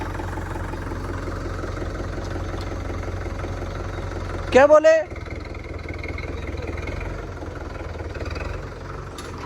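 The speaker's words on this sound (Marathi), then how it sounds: "मी आता हे करू राहिलं ट्रॅक्टर चालू." A tractor engine idles steadily at close range with a low, even rumble and one brief louder burst midway. People talk nearby.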